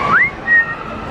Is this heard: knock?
no